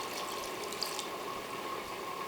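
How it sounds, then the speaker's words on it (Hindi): Half a glass of water is poured into a pot of coarsely cut spinach for a Deghi-style palak gosht (spinach mutton), giving a steady, even splashing stream with no talking. "इसमें जाएगा आधा गिलास पानी"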